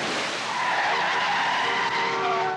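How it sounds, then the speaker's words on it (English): A car skids with a long, loud tire squeal as it slides into a parking spot in front of a pizza place in the 1988 movie License to Drive, the screech sustained and close. "The car thing, where it slides into that perfect parking spot in front of the pizza place"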